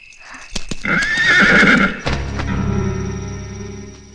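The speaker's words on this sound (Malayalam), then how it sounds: "മൻസൂർ, കുതിരയെ താഴേക്ക് നിർത്തൂ," A horse gives a loud, close whinny, then its hooves clip-clop steadily on hard ground in a Malayalam film scene, with no voices heard.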